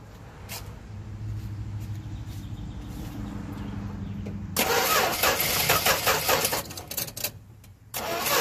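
A 1969 Dodge Dart engine cranks and fires up, loud and close, after a low steady hum; the engine catches abruptly and revs roughly with uneven bursts before settling near the end.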